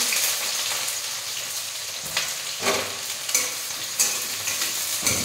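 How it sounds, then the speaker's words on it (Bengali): Onions dropped into hot oil already crackling with whole garam masala and cumin, giving a continuous bright sizzle with occasional louder spits and stirring scrapes, close up and without any talking. "কিছু পেঁয়াজ তেলের পরে দিয়ে দিই"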